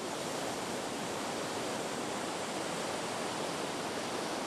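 Ocean waves breaking on a beach in Playa del Carmen, Mexico, as a steady, loud, unbroken roar of surf with no voices over it.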